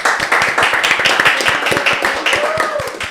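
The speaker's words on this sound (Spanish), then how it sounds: "Así que un aplauso para ellos." A studio audience claps for guests at a Spanish-language talk show, a brisk steady run of close, crisp handclaps filling the whole moment, with a faint voice underneath.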